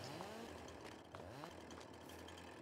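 A chainsaw in a farming video game runs continuously with a buzzing, droning engine tone that rises and falls slightly, steady and up front with no voices.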